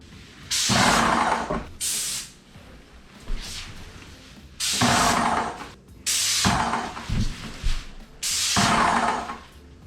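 Bursts of paint sprayer hiss in repeated passes while painting a kitchen island, each a second or so long, separated by short pauses, close and fairly loud with no talking.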